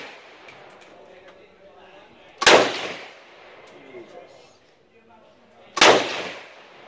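Two loud, sharp gunshots about three seconds apart at a shooting range by the Cu Chi Tunnels in Vietnam, each with a short ringing tail, over a low murmur of background voices.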